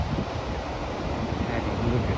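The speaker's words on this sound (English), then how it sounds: "Have a look at some of these waves." Ocean surf at Newcastle Beach, a steady broadband wash of waves mixed with heavy wind buffeting the microphone, continuous and fairly loud throughout.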